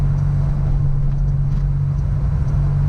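A DeLorean replica built as the Back to the Future time machine cruises on a public road, its engine a steady low rumble with road noise, close and continuous without any talk.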